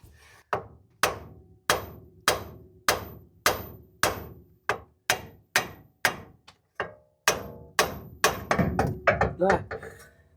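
Repeated hammer blows on a tapered ball joint of a 2001 Dodge Ram 1500, about a dozen sharp metallic strikes at a steady pace, close and loud, quickening into a faster cluster near the end.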